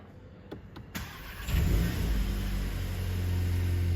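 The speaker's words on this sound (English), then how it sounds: "I'm just going to turn it for you so you can hear the exhaust." A 2021 VW Golf 8 GTI cranks and fires up, a few clicks giving way to a surging start and then a steady, deep exhaust idle, close and fairly loud.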